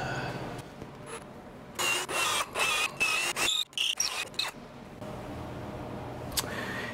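A power drill bores holes into a wooden board for a wedge stand, whining loudly in several short bursts separated by brief pauses, then quiet near the end.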